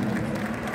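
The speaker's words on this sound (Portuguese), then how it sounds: "Olha, aplaude o rei e a rainha do baile." Audience applause for the king and queen of a glam ball, a steady dense wash of clapping and crowd noise filling the whole moment at moderate loudness.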